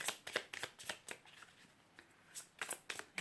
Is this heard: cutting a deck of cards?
yes